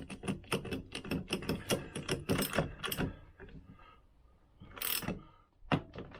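A socket ratchet tightens a part on a Vespa PX engine during a strip-down, producing bursts of close, rapid clicking that stop briefly, then return as shorter spurts.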